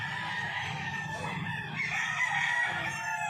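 A rooster crows at a pet market, a drawn-out call standing out over a steady low hum of background noise and distant fowl, moderately faint and without talk.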